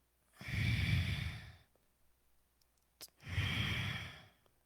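Two long, deep exhales during a guided breathing exercise, each a breathy rush lasting over a second, with a short sniff between them; close and fairly soft, with no talking.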